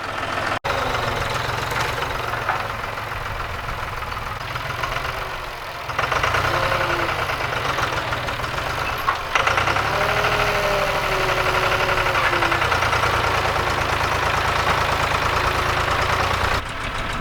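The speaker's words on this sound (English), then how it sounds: "So I'm just gonna come in here with my tractor and kind of scoop it up, clean it up, and pile it all up." Farm tractor engine running steadily and loudly nearby while scooping and piling wet hay, a continuous chugging drone that rises slightly in load partway through, with no speech.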